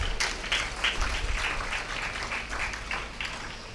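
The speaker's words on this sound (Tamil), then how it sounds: "பெண்கள் கைத்தட்டி அதை ஆமோதிக்கிறார்கள்." Women in the audience of a motivational talk clap in approval. The clapping comes as a series of distinct rhythmic claps, fairly close and clear, with no talking over it.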